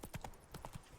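Hooves of the horse Roach clip-clopping on a road in The Witcher 3, a quick run of about six crisp, evenly paced hoof strikes, fairly quiet and close.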